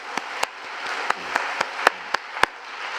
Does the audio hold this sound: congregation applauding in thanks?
yes